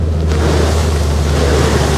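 An off-road buggy in Spain ploughs through a muddy puddle, throwing up a loud, continuous rush of splashing water and wind roar close to the microphone, with engine rumble underneath.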